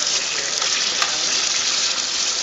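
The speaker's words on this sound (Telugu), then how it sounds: "ఆయిల్లో ఫ్రై చేస్తాం." Tomatoes and green chilies frying in hot oil give a loud, steady, close sizzling hiss that fills the whole moment without pause.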